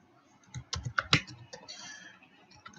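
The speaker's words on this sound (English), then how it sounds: "I thought I was typing the apps" Typing on a computer keyboard, a quick irregular run of close clicks and key taps with a few louder strikes, heard alone without talk.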